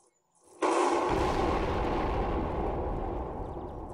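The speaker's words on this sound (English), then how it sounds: "Look how big that explosion was." A bomb explodes in the Garry's Mod video game: a sudden loud, deep blast after a brief quiet start, then a long roaring rumble that holds steady and only slowly fades.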